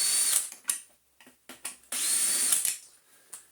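A power drill whirs in short bursts and one longer run while undoing screws on the casing of a Miele S6000 vacuum cleaner, close and loud, with brief clicks and pauses between runs.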